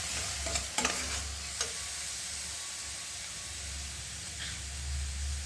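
Tamarind juice poured into a sizzling pan for a millet-leaf flavored rice dish and stirred, giving a steady close frying hiss with a few sharp clinks of a spoon early on.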